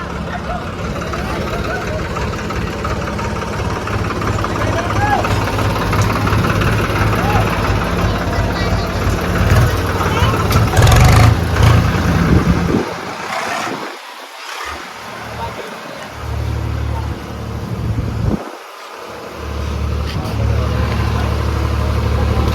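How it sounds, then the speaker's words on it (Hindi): Two tractors idle with a steady low rumble at a village building site where bricks are being unloaded, loud and continuous, with people talking over it and a few brief dips in the engine noise. "2 ट्रैक्टर आए हैं"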